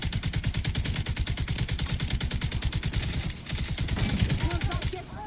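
Rapid automatic gunfire in The Division 2 video game, a sustained stream of loud evenly spaced shots that briefly pauses and resumes, with a distant burst and faint clatter near the end.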